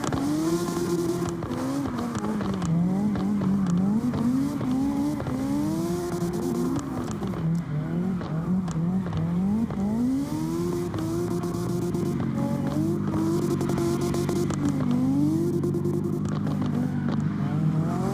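Race car engine in a racing video game qualifying round, revving hard on throttle while climbing a hill, with rising and falling pitch sweeps as it shifts through gears, loud and continuous.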